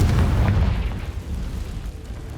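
A Confringo fire spell blasts in Hogwarts Legacy, a loud deep boom with a rumbling tail that slowly dies away over a couple of seconds, heard alone.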